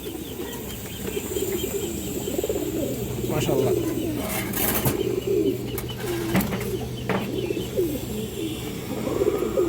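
Pigeons cooing repeatedly at close range, soft throaty calls overlapping, with a few wing flaps and someone speaking briefly over them.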